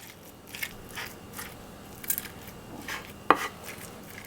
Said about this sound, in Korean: 한번더 칼등을 이용해서 좀 더 곱게 이렇게 으깨주시면 돼요